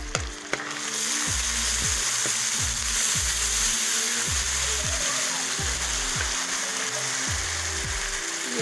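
Green chillies fry in hot oil in a pan for fenugreek potato curry, making a loud, continuous crackling sizzle, with rhythmic scraping and clanking of stirring underneath.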